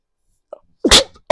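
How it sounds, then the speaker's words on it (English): A single sharp sneeze, preceded by a short catch of breath, loud and close. "That was a sneeze."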